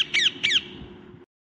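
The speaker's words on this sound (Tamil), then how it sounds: "ஒரு கிளி என் தலையில உட்கார்ந்துருச்சு" Parrot squawking close by: two harsh, shrill squawks in quick succession, then fading room noise.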